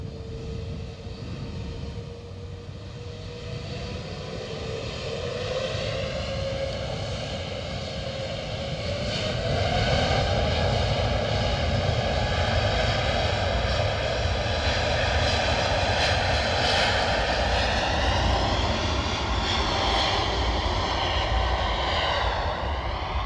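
A Qatar Airways Airbus A350 jet at Edinburgh Airport gives off a steady engine whine that rises in pitch and builds louder over time, close and sustained, with no voices.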